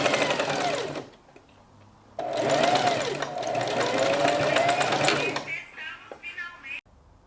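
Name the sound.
sewing machine stitching a fabric strap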